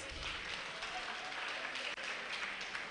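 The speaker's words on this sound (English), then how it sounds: "Can I have you clap your hands?" Audience clapping at an agricultural research institute's annual review and planning workshop, a steady dense wash of many hands held for three seconds with no voices over it.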